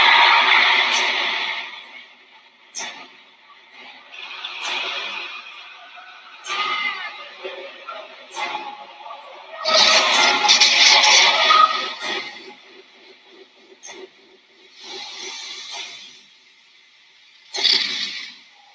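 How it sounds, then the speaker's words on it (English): Fragments of a 1963 Birmingham civil rights protest march, reworked as a sound art piece: bursts of distant, echoing crowd voices and shouts rise and fall in reverberant waves, separated by quieter gaps. "So what you're hearing are fragments from the protest, the march in Birmingham in 1963."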